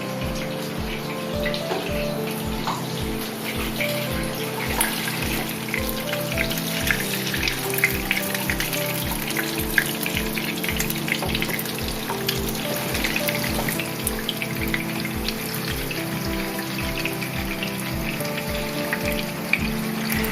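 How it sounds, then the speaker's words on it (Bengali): Chicken pieces frying slowly in a small amount of oil for a Bangladeshi chilli chicken, giving a steady, close crackling sizzle with fine rapid pops that runs evenly throughout, with no talking. "অল্প আছে আস্তে আস্তে ভেজে নিতে হবে"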